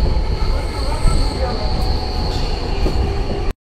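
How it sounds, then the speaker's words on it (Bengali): Purulia–Howrah train at Beliatore railway station, a steady broadband rumble of rolling wagons with a faint high wheel squeal, continuous and fairly close, cutting off abruptly at the end. "পুরুলিয়া থেকে একদম হাওড়া ট্রেন দেখতে পাচ্ছেন বেলিয়াতর রেল স্টেশনে"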